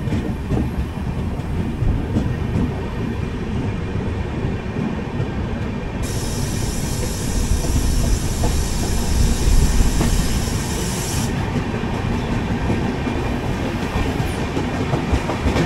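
A Shirdi Mysuru Weekly Express rolls out of Shahabad station, its continuous loud rumble and wheel clatter steady throughout, with a brighter hissing band in the middle stretch and no voices.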